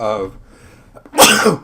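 A single loud, close sneeze bursts out after a stretch of speech, set indoors during a spoken accounting lecture.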